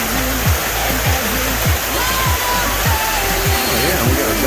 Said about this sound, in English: Here's some real fast moving water inside.